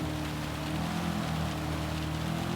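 Steady rain hiss in the Gran Turismo racing game, a dense even wash of noise filling the whole short stretch with no voices over it.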